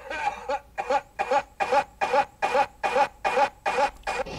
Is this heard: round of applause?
no